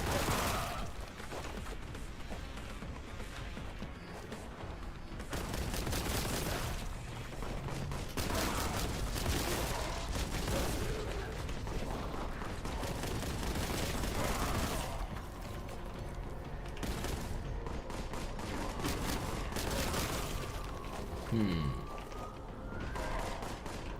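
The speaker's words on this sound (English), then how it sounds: "Oh, that's a good feeling shotgun." A shotgun fires again and again in Boltgun, a video game, with dense bursts of blasts and mechanical clatter running loudly throughout, plus reload clicks and a faint voice in places.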